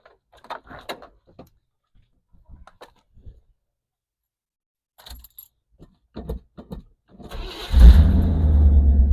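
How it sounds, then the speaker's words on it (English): A truck running on a newly fitted top post battery cranks and fires up, its engine catching around the eighth second and settling into a steady, close idle after some earlier clicks and handling noises. "let's see if this truck will actually start on the power of its own battery"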